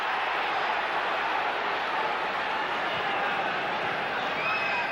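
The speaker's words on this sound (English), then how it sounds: "it's got the crowd going" Football crowd at a 1996-97 Champions League match between Manchester United and Fenerbahçe, a loud, continuous roar of cheering from a packed stadium, rising slightly and holding steady for several seconds.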